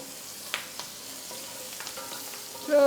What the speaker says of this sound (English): we go in with a couple of handfuls of whole shallots. And you want to keep them whole for this. And we just want to give them a quick sear